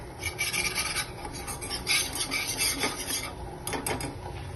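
Flour and butter roux being stirred in a pan for mac and cheese, rhythmic close scraping and rubbing strokes with a few light metallic taps.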